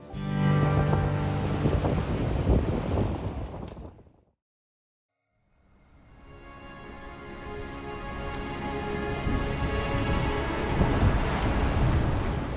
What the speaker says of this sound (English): we've also got 25 knots of wind downwind now